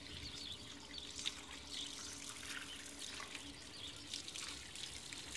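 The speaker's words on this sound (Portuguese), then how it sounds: "que legal, água corrente" Tap water runs steadily at a thermal spa in Termas de Ibirá, a soft continuous splash and trickle with faint background bustle and no talking.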